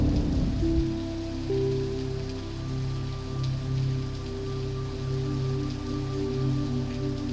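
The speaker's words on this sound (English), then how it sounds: "But rain isn't something I can call upon whenever I want." Steady rain falling on surfaces in the Garry's Mod roleplay map rp_Downpour, a dense continuous patter with a low ambient hum underneath, even and unbroken throughout.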